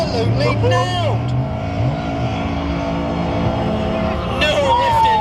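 A drag race car at a Super Pro event at Donington pulls away from the line with a sustained loud engine roar, accompanied by commentary running over it throughout.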